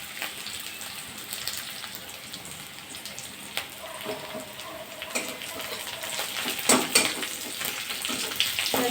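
Bay leaves frying in hot oil in a pan for a Bengali egg curry, a steady close sizzle with a few louder crackling bursts, no talking over it.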